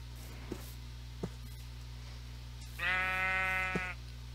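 A single sheep bleats once in Minecraft, a clear wavering call lasting about a second, amid a steady low hum and a few faint clicks.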